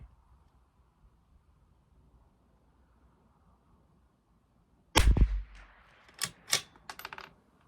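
A .22 rimfire rifle fires one shot of CCI Standard Velocity ammunition at an outdoor range with 100-yard targets: a near, sharp crack breaks a long quiet, followed by a few lighter clicks and knocks.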